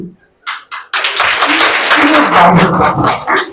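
A crowd of women at a Mahalaya day gathering in Purba Medinipur claps together in a loud, sustained round after a few isolated claps, while someone talks over the applause.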